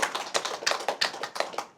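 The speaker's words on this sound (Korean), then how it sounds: "우리 하나님께 영광의 박수" A church congregation at a dawn worship service claps in praise to God, a quick, even run of sharp hand claps at moderate volume with no voices over it.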